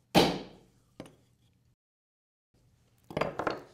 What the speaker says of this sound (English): It's a mortising chisel. If you come in at an angle, it leaves a nice ding.